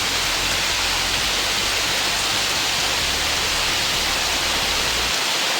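A heavy village downpour makes a thick, constant roar of rain that stays loud and even throughout, with no voices.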